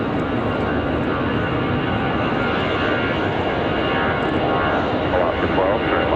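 A Delta Airbus A320 airliner roars steadily at Raleigh Durham International Airport, a loud broadband jet rumble that holds without break from start to finish.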